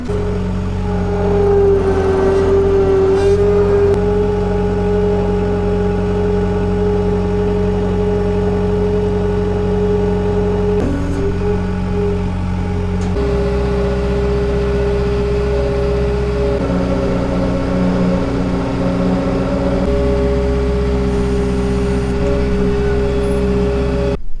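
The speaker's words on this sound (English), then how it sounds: "There's just cars everywhere." In a busy farm market parking lot, cars and trucks idle and move, making a steady low engine drone with shifting tones as vehicles pass nearby.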